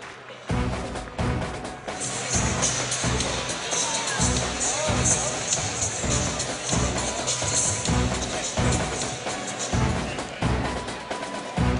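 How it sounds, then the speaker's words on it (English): An arena crowd at a college basketball game between Santa Clara and Gonzaga makes a steady roar of cheering and clapping under loud pounding music, with an announcer talking over it. "We'll get a round of applause"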